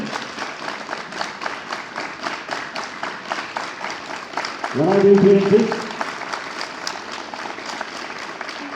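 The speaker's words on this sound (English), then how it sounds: "Clap together." Students at a school assembly clap together in a steady, regular rhythm of sharp, even beats. Partway through, a voice speaks briefly over the clapping.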